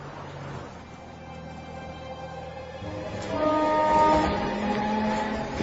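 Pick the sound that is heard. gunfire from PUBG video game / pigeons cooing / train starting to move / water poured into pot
train starting to move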